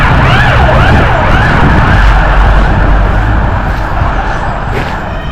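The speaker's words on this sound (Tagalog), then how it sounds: "Yun o, merong bumbero." A fire engine's wailing siren rises and falls repeatedly on a cold city street in Finland, loud and steady over a constant rumble of traffic before gradually easing slightly.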